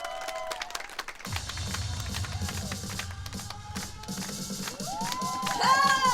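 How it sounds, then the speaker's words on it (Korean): Audience applause and cheering at an outdoor concert at a dinosaur-themed auto campsite in Goseong, Gyeongnam, bursting in loudly and steadily clapping for several seconds, mixed with crowd noise and scattered whoops. "박수 한번 보내주시기 바랍니다"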